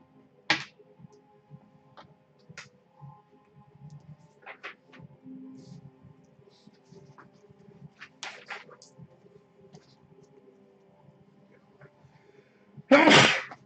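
One loud, sharp sneeze bursts out near the end after a stretch of quiet room tone with scattered small clicks and faint murmurs.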